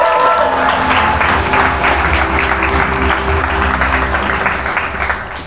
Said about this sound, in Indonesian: Gus Bodai, tepuk tangan buat Ketua Koordinat dari Sunda Sembawa Jaya Giri ya